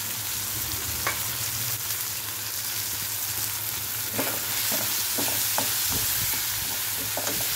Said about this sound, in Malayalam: നമുക്ക് പീച്ചിങ് ഒന്ന് വഴറ്റാം.